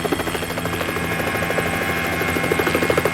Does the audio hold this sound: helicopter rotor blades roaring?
yes